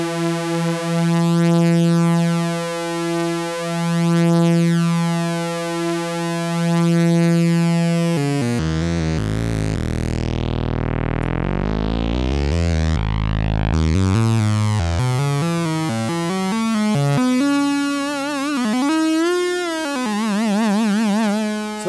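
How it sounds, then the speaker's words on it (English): Three oscillators on a Micromac D synthesizer sound in unison, starting as a steady, buzzy tone, then sweeping and warbling as detuned voices beat against each other. The sound is loud and continuous, with no talking. "That's the sound of three oscillators in unison."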